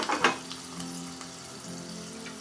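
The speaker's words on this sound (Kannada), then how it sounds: "ಕರಿಬೇವಿನ ಸೊಪ್ಪು ಸ್ವಲ್ಪ. ಇದು ಒಗ್ಗರಣೆ ಆಯಿತು" Curry leaves crackle in hot oil for a tempering, starting with a burst of sizzle and pops, then easing into a steady, close, moderate hiss.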